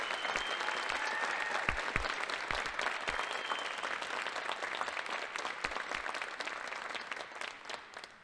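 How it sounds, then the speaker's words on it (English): An audience applauding student athletes at a four-year athletic letterman awards ceremony, a sustained, fairly distant wash of clapping with a few sharper individual claps standing out near the start. "give all of these student athletes a round of applause for this great accomplishment"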